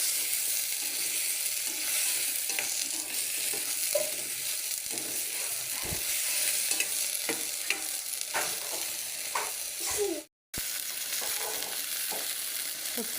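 Sundakkai (turkey berries) and anchovies fry in oil with a steady bright sizzle, stirred now and then with scraping and clinking utensil strokes, broken by a brief silent gap.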